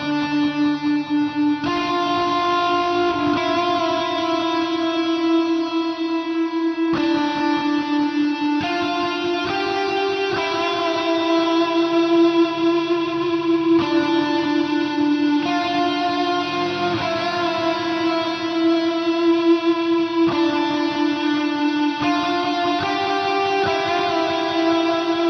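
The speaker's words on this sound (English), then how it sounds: "We'll also hear this tone with the rotary modulation engaged to give it a little bit of extra width and a bit of movement." A distorted rock electric guitar played through a Mooer GE150 Max with rotary modulation rings out in sustained chords and melodic phrases, swirling and wide, with steady volume and no talking.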